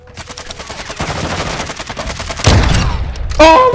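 Video game gunfire in a Search and Destroy match, with a rapid run of evenly spaced shots followed by two louder, sharper blasts near the end; no voices are heard.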